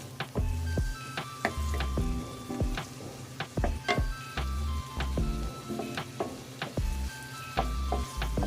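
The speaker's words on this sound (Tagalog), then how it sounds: "Ang sibuyas natin, lutuin muna natin maigi" Onions sautéing in a pan for pork sisig, a steady loud sizzle broken by repeated scraping and clinking stirs of a utensil against the metal.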